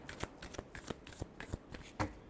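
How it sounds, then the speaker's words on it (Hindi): Tarot cards shuffled by hand in a quick riffle, a series of crisp papery flutters and taps in an irregular rhythm, close and fairly quiet, with no talking. "Last shuffle."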